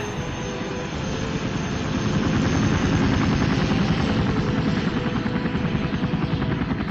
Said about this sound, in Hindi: ये हेलीकॉप्टर कहाँ जा रहा है?